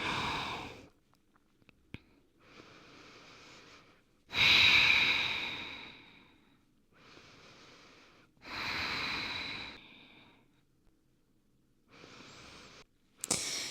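Slow, audible breaths taken in yoga child's pose, with forehead resting on the floor: long inhales and exhales in a calm repeating rhythm, close to the microphone, with quiet gaps between them.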